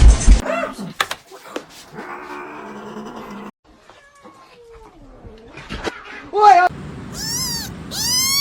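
A neighbour's cat being petted lets out drawn-out meows and caterwauling yowls, mixed with other close sounds and bits of talk, rising to sharp repeated cries near the end.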